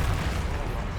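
A short booming burst from the Incendio fire spell cast in Hogwarts Legacy, a heavy low rumble that fills the moment with a roaring whoosh.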